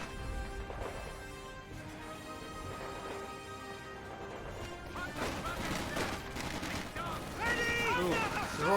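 Sexton artillery barrage in Company of Heroes 2 pounds away as a dense roll of distant booming explosions and crackling impacts over game ambience, building louder toward the end, with a voice talking throughout.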